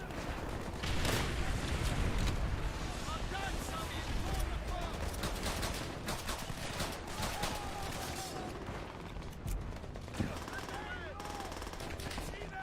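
Dense, sustained gunfire from a Call of Duty: World at War battle, with rapid machine-gun bursts and scattered single shots rattling continuously under occasional talk.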